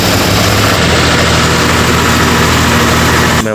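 A tractor engine runs steadily and loudly up close while being driven in a village farm setting, a constant low diesel drone with a harmonic hum that cuts off abruptly at the very end.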